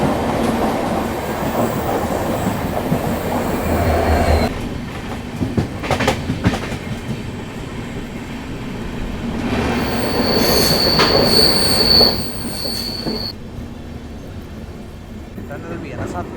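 Rajdhani Express train overtaking a passenger train, with loud metallic wheel squeal, clattering and rumble rising and falling, and a voice talking over it.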